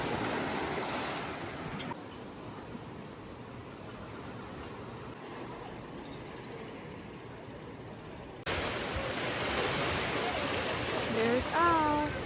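Surf rolling in at La Playa beach in Oaxaca, a steady broadband wash of waves throughout, swelling louder near the end where a faint voice-like sound rises briefly over it.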